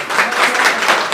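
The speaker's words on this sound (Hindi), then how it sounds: "देखो ये लोग भी आपकी ताली बजा रहे हैं पीछे" A group of people clapping in applause, a close, dense burst of handclaps with a steady patter throughout.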